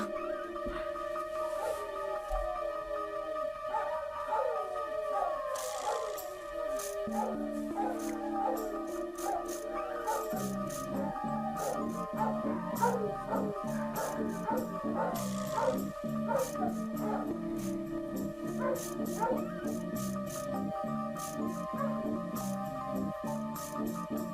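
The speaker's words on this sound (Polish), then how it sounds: "A teraz moje psy wyją." Several pet dogs howl together in long, wavering, overlapping tones, a continuous chorus that swells and falls, heard from a moderate distance over a faint steady background hum.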